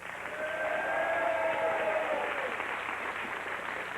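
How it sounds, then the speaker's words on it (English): A studio audience applauds two quiz contestants on a 1992 Blockbusters game show, a steady, dense wash of clapping that holds evenly for several seconds. "let's give them a round of applause"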